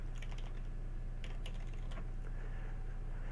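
Quick bursts of keystrokes on a computer keyboard as a character name is entered while setting up Farming Simulator 2017, clicking in short clusters over a steady low hum, with no talking.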